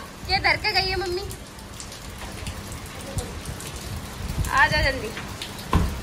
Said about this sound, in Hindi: बारिश हो रही तेज मेरे सिर पे